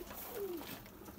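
Coo of a pigeon of the Humar breed, a single short call, soft and fairly close amid steady background hiss.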